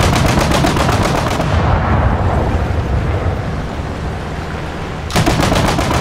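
Anti-aircraft guns in the War Thunder tank and plane game fire in loud, rapid bursts of repeated shots, pausing briefly mid-clip before the heavy gunfire resumes near the end.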